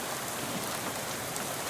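Rain falls at night in the video game Shadows Over Loathing, a steady, even hiss of drops on surfaces with no breaks.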